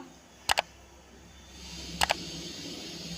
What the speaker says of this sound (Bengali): এবার গ্যাস জ্বালালাম